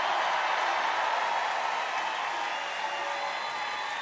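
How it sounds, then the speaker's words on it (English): Sustained applause and crowd noise from a rally audience welcoming Mike Lindell at a Turning Point event in West Palm Beach, Florida, a steady dense wash of clapping throughout with no pauses. "every time I introduce him, he gets a tremendous applause"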